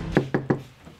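Three quick, evenly spaced knocks on a door, close and fairly loud, with no talking.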